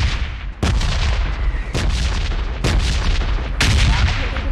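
Grenades explode on grass in PUBG Mobile, four loud booming blasts at roughly one-second intervals, each followed by a rumbling decay, with no talk.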